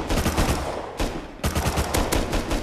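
Rapid gunfire in the game Rust, loud bursts of closely spaced shots in two volleys separated by a brief pause.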